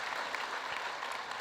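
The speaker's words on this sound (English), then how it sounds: "I think that's worth a round of applause." An auditorium audience at a plenary session gives a brief, faint burst of clapping that stays even throughout.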